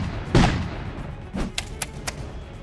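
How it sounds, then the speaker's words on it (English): A cartoon yellow tank gun fires a series of bullets: one heavy thump, then a softer shot and a few quick sharp cracks, close and loud with no talk. "PeaPea switches to a yellow tank and fires a continuous series of yellow bullets at John."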